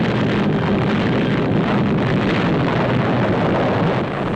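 Atomic bomb test detonation of bomb number 6, a new atomic weapon set off from the ground rather than dropped from the air, heard as a loud, continuous broadband roar and rumble that stays steady throughout with no voices.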